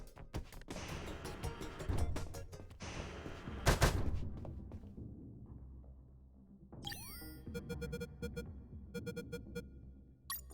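Video game gunfire in UnMetal: rapid volleys of sharp shots, several loud clusters early on, then quieter bursts and ricochet-like tones later, with no voices.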